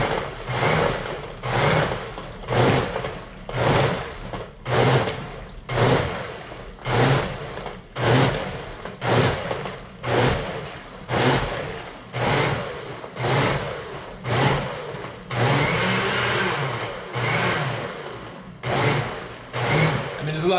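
A blender crushing ice for a peanut butter banana protein shake, running in repeated short pulses of grinding roar, roughly one burst per second, then one longer continuous spin near the end.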